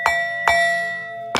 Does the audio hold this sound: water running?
no